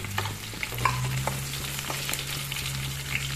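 Whole cloves, cardamom, cinnamon and bay leaves sizzle in hot oil for a chicken and chickpea curry, a steady close frying hiss with scattered small pops and a low stove hum beneath.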